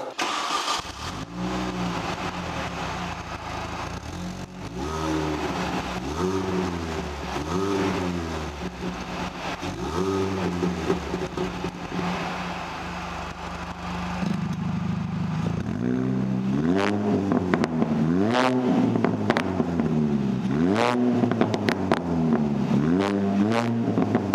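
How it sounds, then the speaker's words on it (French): A modified Mini's exhaust revs repeatedly, each blip rising and falling in pitch over a steady idle, growing louder and more frequent in the second half, close and without talk. "on va réécouter cette petite ligne d'échappement"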